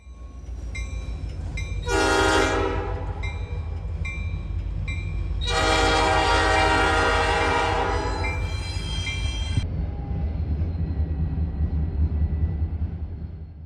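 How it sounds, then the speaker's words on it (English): A southbound freight train on the C&O crosses a rail diamond in Marion, Ohio, its loud multi-tone horn sounding in two long blasts over the steady rumble and clatter of passing cars. "southbound on the C&O, L457 came running across the diamond"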